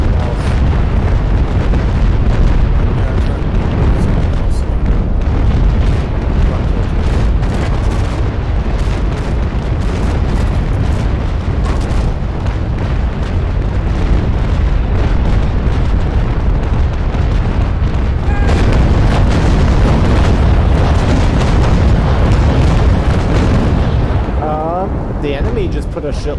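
Cannon shots pounding an enemy ship in a pirate naval game, a continuous loud barrage of deep booms and blasts rolling over one another for the whole stretch, with voices underneath.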